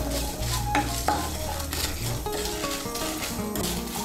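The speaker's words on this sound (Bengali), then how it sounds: "এগুলোকে আমি শুকনো খোলায় আগে একটু ভেজে নেব" Cardamom and other whole spices for vegetarian chickpea ghugni dry-roasted in a hot pan, a utensil stirring and scraping with light sizzling and occasional metallic knocks, close and continuous.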